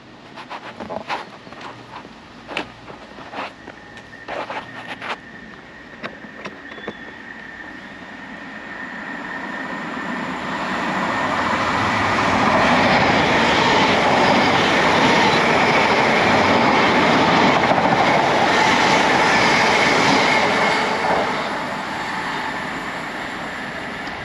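An Elizabeth Line train approaches a platform on the way to Shenfield, a few clicks and thumps first, then a loud sustained rumble and hiss as it rolls in and slows, no talking.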